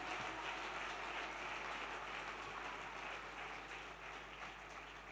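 Church congregation applauding and cheering during a sermon, a continuous dense wash of clapping at moderate distance that slowly tapers off over several seconds.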